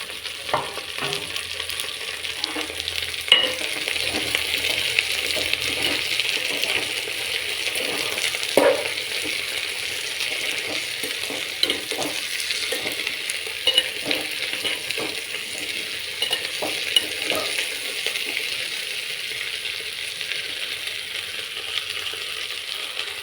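Steady sizzling of okra frying in hot oil, with scattered crackles and pops and a few soft scraping stirs, close and continuous.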